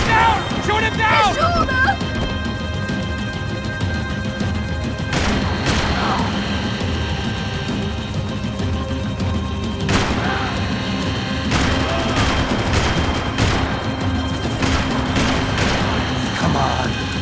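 Gunfire in the Max Payne video game during a chase sequence, with bursts of shots and booms over a dense, loud action soundscape. Voices shout throughout.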